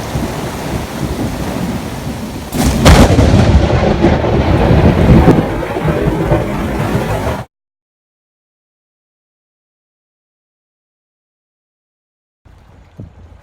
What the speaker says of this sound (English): We're in a bit of a squall here.